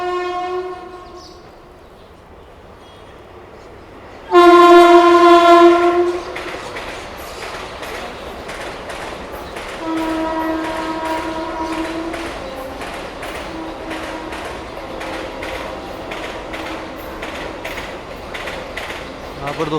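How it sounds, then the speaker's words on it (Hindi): The Tripura Sundari Express, Agartala to Firozpur Cantt, pulls into an Indian railway station, sounding a loud, sustained horn blast, then a second shorter blast as wagons roll past with rhythmic clickety-clack under faint background talk. "यहाँ पर दोस्तों 10:11 पे आ रही है त्रिपुरा सुंदरी एक्सप्रेस, अगरतला फिरोजपुर कैंट।"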